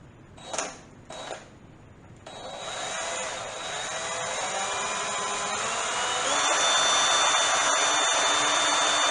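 A power drill fitted with a Robertson bit gives two short bursts, then spins up into a sustained, rising whir that grows louder and steadier.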